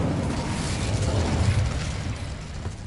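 An Incendio fire spell in the video game Hogwarts Legacy erupts as a roaring, crackling burst of flame that rumbles steadily for nearly three seconds, then eases off slightly.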